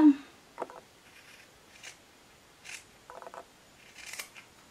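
Scissors snip small notches into dress fabric while sewing a Burda pattern, a handful of short, quiet, crisp cuts spaced irregularly in a calm room.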